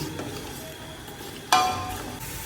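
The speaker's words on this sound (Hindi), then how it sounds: "अब इसमें डालेंगे ये खड़े मसाले। 1 मिनट के लिए इसे भूनेंगे।" Whole spices frying in oil with softened onions for beef nihari, a steady sizzle under a sudden loud spatula scrape and stir partway through, close up.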